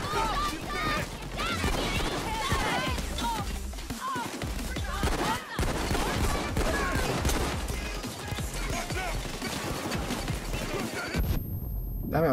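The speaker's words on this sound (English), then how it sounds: "I was trying to shoot the thing" Heavy gunfire in the video game Payday 2, rapid overlapping shots and crashes over a dense soundtrack and game voices, loud and continuous throughout.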